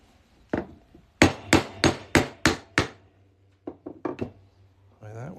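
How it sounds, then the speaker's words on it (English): Hammer blows strike a silver quarter being formed into a ring, a sharp ringing metallic clang repeated about a dozen times, a fast even run in the middle and a few lighter taps near the end, close and loud. "Hammer this on through."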